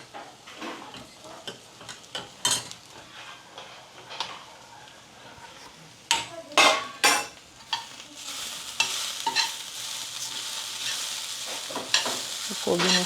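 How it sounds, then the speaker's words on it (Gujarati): Spices for tempering dal hiss and crackle in hot oil, with sharp clinks of a spoon against the pan early on and a sizzle that swells and holds steady toward the end. "પછી મેં વઘાર કરું"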